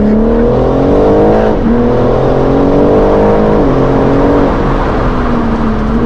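A car engine revs steadily while driving, its tone rising and dipping through gear changes, loud and close from inside the moving car; the car is a BMW M model.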